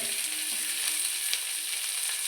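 Ginger, green chilli, garlic and curry leaves sauté in a pan for chicken curry, giving a steady bright hiss with faint scraping from stirring, close and alone.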